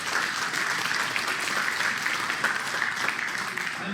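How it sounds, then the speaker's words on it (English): Racing banquet audience giving a round of applause, steady, full clapping from a roomful of people with a faint murmur underneath. "give yourself a round of applause for a nice day"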